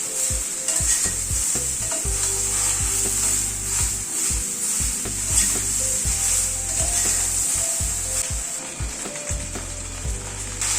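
Okra and onion fry in a pan under a bright, continuous sizzle, while a utensil scrapes and taps the pan in a quick, regular rhythm throughout; fairly loud and close, with no voices.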